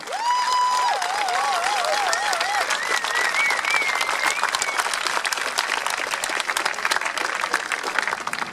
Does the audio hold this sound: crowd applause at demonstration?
yes